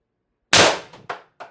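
An IntruBuster Gen 2 air gun fires ACIL ABS-coated steel 10.1 gram ammo: one loud, sharp, close shot followed by a couple of quick fainter clanks as the projectile strikes, with no talking.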